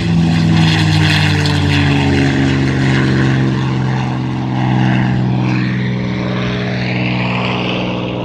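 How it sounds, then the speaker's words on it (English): A P-51 Mustang and other V12-engined warbirds take off at the Temora Aviation Museum airshow, with a loud, continuous propeller and engine roar that slowly shifts in pitch as they pass. "We'll let you listen to the Mustang and the V12s as they take off"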